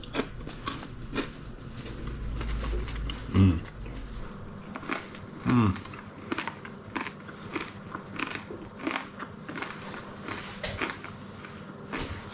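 Bites into a bacon sandwich with crackly skin give crisp crunches, two louder ones standing out, followed by steady close chewing and faint crackling.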